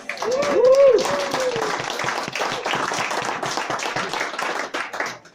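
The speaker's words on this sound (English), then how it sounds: "So a round of applause." A book launch audience at Hodges Figgis bookshop in Dublin bursts into steady, dense applause that stays loud and full for several seconds, with a brief voice rising over the start.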